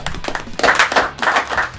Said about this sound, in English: I tell them to clap to start the show